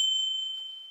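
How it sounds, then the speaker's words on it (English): A single dinner bell strikes once with a clear, high ringing tone that decays slowly over a second, alone and fairly quiet. "The tour concluded with the dinner bell"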